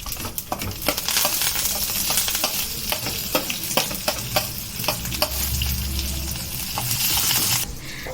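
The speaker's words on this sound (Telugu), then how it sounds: "ఇప్పుడు ఉల్లిపాయలు, కరివేపాకు వేద్దామండి." Onions and curry leaves frying in hot oil after dried red chillies, a loud continuous sizzle with sharp spattering crackles and metallic clinks of a spoon against the pan, no talking.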